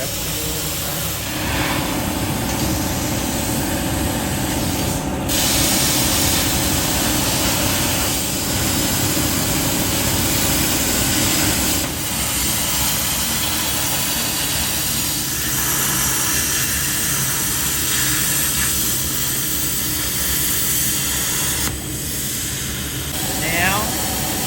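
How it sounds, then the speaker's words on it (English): A machine cutting a metal flat-pack portable campfire pit gives off a steady, loud mechanical drone with a constant high whine. Several sharp transitions break up the noise along the way. "we're cutting out the actual Firepit itself"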